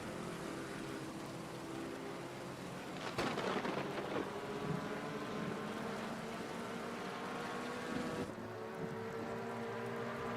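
Rain and thunder in the racing game Assetto Corsa Competizione during a GT4 race: a steady wash of rainfall with a rolling thunder crack, layered over a low engine drone.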